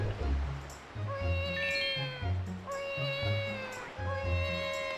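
Cat meows ring out with each jump in The Legend of Zelda: The Wind Waker, rising and falling cries repeating every second or so over looping game music.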